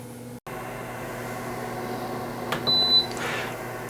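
An Emeril's Power AirFryer 360 runs while cooking shrimp, giving a steady close hum with a constant whir and a short electronic tone near the end.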